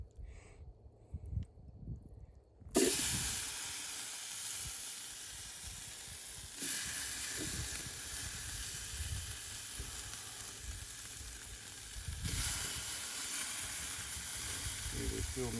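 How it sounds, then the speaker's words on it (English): Steaks searing on a very hot Kamado Junior grill with vents wide open, a loud steady sizzle that starts abruptly and swells as more meat hits the grate, close up with occasional handling clatter. "That's going to sear these steaks."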